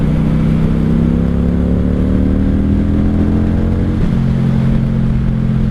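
A 1995 Honda Shadow VLX 600 (VT600CD) motorcycle ridden on a twisty road in second or third gear, its engine a loud, steady low drone heard up close, with a brief pitch shift partway through.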